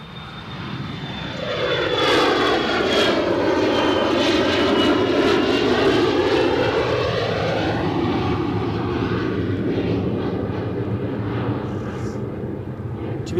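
A KLM airplane at Edinburgh Airport passes close by during a landing or takeoff, its jet engines swelling into a loud roaring whine with a sweeping pitch shift, then fading slowly.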